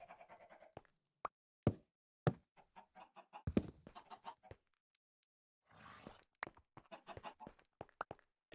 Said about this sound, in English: I can just hear the chickens outside.